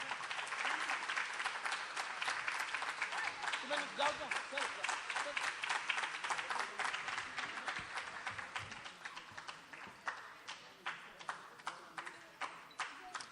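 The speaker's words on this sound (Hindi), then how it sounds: "ज़ोरदार तालियों से इस बच्ची की हौसला अफजाई होना चाहिए।" Audience applause at an award distribution for an elocution competition in Ichalkaranji as a young girl receives a trophy: sustained dense clapping from a crowd that gradually thins into a few scattered, distinct claps, heard at a moderate distance.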